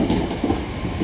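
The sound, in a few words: Class 323 electric train arriving at Deansgate station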